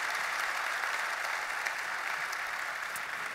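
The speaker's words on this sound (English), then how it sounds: "Can we give our panelists a round of applause, please?" Steady applause from a conference audience thanking the panelists at an enterprise IT event about OpenStack, a dense, even wash of clapping that holds throughout without pause.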